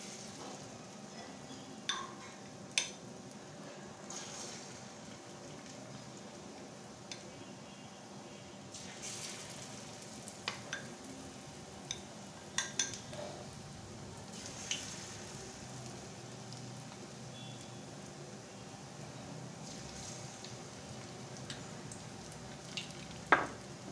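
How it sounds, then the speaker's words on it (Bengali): Neem flower fritters frying in hot oil, a steady low sizzle running throughout with occasional soft clicks and stirring taps, fairly quiet and close, no voices. "বড়াগুলো ভেজে নেব।"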